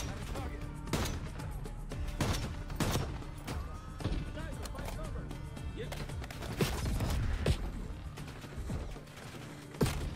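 Video game gunfire in Call of Duty Black Ops 6 on PS5, dense rapid bursts of rifle shots and sharp cracks aimed at the player, loud and continuous with occasional heavier impacts and mechanical clatter.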